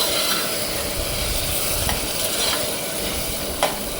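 Chopped tomatoes, four to a glass of rice, stirred in a hot pan for tomato rice with peas, giving a steady close sizzle with soft scraping and a few brief clinks throughout.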